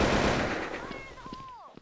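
A loud, dense burst of rapid gunfire in the video game Blood Strike that fades out, with faint electronic tones and brief voices near the end.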